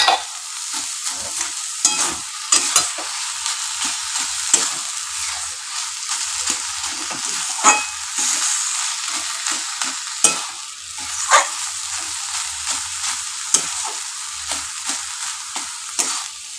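Bottle gourd peel and grated coconut are stirred and fried in a pan, giving a steady close sizzle broken by frequent sharp scraping stirs throughout, with no voices.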